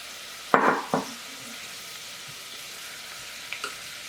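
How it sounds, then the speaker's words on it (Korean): Soaked miyeok seaweed dropped into a hot pan with half-cooked meat for Korean seaweed soup, giving two quick loud sizzling bursts and then a quiet background crackle with a few faint later pops. "우리 물에 불려놨던 미역을 넣고 함께 볶을게요"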